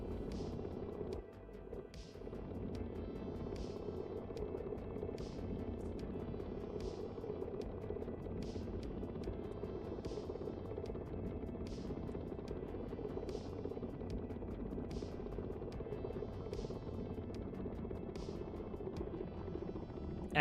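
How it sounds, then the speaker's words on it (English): Helicopter rotor winding down after engine shutdown in the Stormworks video game, a steady low engine hum under evenly spaced blade whooshes that keep a regular beat for about twenty seconds, heard without talking. "See the rotor slowing down already?"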